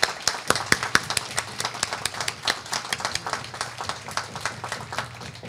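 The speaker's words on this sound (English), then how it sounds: "Let's give another round of applause for Carly Fiorina." An audience applauds at an evening commemorative civic event, a dense run of hand claps with sharp individual claps standing out, steady and fairly close for several seconds with no talk over it.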